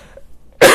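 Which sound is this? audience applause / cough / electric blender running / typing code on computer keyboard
cough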